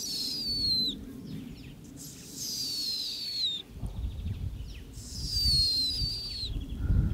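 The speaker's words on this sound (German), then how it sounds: "Dann ertönt der Luftfeindalarmruf." High, thin, drawn-out whistled bird alarm calls warning of an aerial predator such as a sparrowhawk repeat three times, each a long descending tone, over a low rumbling background.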